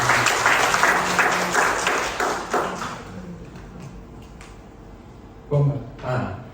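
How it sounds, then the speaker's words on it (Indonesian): Applause from a church congregation, dense and loud at first, then thinning out into scattered claps and a few thumps near the end. "Berikan tepuk tangan bagi"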